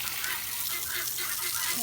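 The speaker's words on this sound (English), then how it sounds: "Making sure to water the bacon seeds" Seeds being watered, a short continuous hiss of spraying water heard close by, with a faint voice beneath it.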